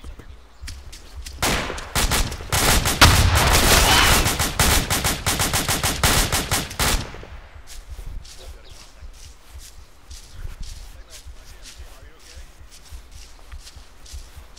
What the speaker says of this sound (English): Why are you shooting these men?